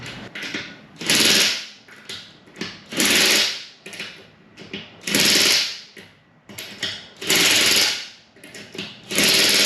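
A cordless Kobalt impact driver tightens the lug nuts on a Subaru Forester's winter tires, firing in loud repeated hammering bursts of about a second each with short pauses between them, close up and with no talking.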